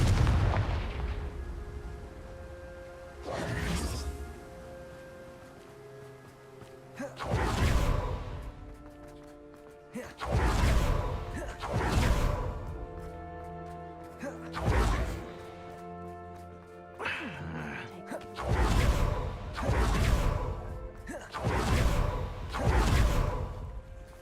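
In Hogwarts Legacy, the Confringo blast spell sets off repeated booming explosions, each a heavy burst with a rumbling tail, coming in irregular clusters over a soft tonal musical background.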